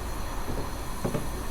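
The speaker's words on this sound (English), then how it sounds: "so I'm going to start slowing the train down a little bit." A passenger train on the Peninsula Corridor in Train Simulator 2019 slows down, giving off a steady low rumble with rail noise and a brief pair of clunks near the end.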